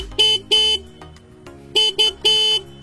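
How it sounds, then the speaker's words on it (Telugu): A 2024 Honda CB200X motorcycle horn sounds in five loud, bright honks, two then three, with short gaps of quiet between them. "హార్న్ యొక్క లౌడ్నెస్ అనేది ఒకసారి చెక్ చేద్దాం"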